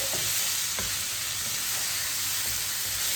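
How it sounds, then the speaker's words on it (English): Stuffing for stuffed capsicum, with paneer and potato, being stir-fried in a pan: a steady, close, even sizzle with a few soft scraping stirs, no voices. "Stir fry it nicely."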